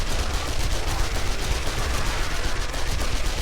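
SMG fire in 7 Days To Die during a night horde at a hillside base, dense rapid automatic bursts running continuously, loud and close with no talk over it.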